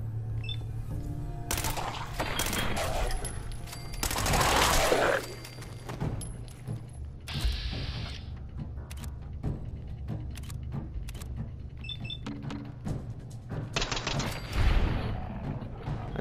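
Pipe rifle gunfire in the Fallout 4 video game, sharp rapid shots and mechanical clacks in scattered bursts amid game effects and ambient hum.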